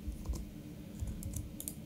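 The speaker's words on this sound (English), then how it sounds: "I'm typing these out" Fingers tap steadily on a computer keyboard while notes are entered during the syncing of film rushes, giving soft, quiet clicks and key strikes with a faint low room hum beneath.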